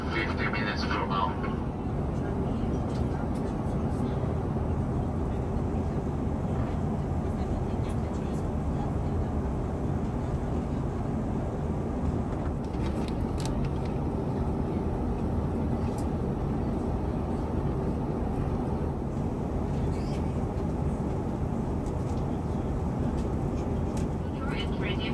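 Steady, loud airliner cabin roar during descent toward Doha Hamad International Airport, a broad continuous drone filling the whole stretch with little change.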